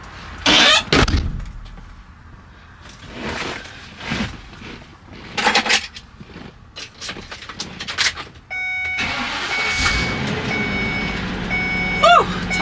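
U-Haul moving truck heard from inside the cab: intermittent thumps and rattles, then a steady engine drone with a high repeating electronic chime over it, close and fairly loud.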